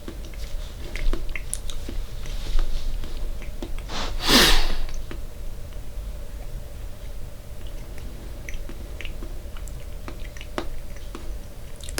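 Someone chewing a wild pepper close up, with soft wet mouth sounds and one sharp crunchy bite in the middle against a low steady hum, and no talking.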